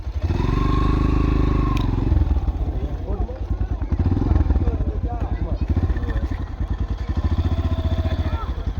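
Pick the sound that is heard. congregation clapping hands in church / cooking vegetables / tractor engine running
tractor engine running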